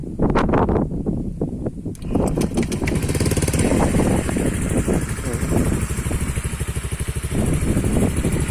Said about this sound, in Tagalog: Yung tunog ng pipe natin paparinig ko sa inyo.